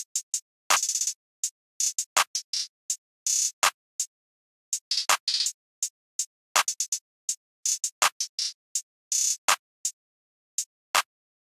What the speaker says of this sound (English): for the clap pattern, it's basically just this basic clap pattern, which sounds like this